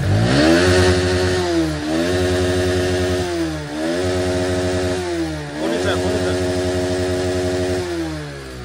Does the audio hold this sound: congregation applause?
no